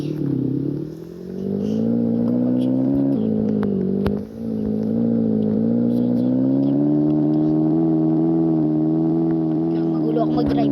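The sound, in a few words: car driving in Roblox Brookhaven video game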